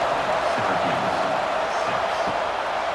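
Stadium crowd noise from College Football 26 at a Syracuse home game against Clemson, a steady broad roar of cheering fans swelling before a kickoff, continuous and fairly loud with no talk.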